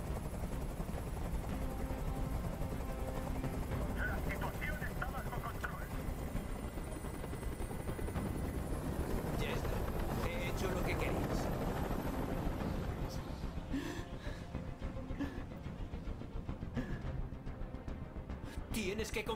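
Helicopter hovering overhead in the video game Detroit: Become Human, a loud continuous rotor thump and engine drone lasting throughout, with game sounds and voices mixed beneath it.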